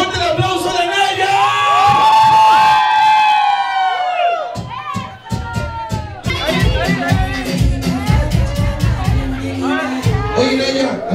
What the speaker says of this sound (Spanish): Así que fuerte el aplauso de Naya